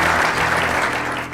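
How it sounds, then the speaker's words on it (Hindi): Loud studio audience applause on a Hindi radio game show, a short, steady, dense burst of clapping with no one speaking over it. "तालियां"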